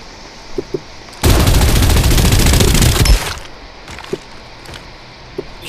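Loud automatic gunfire erupts in the Farlight 84 video game, a dense sustained burst of about two seconds set against quieter in-game sound, with a few isolated clicks before and after.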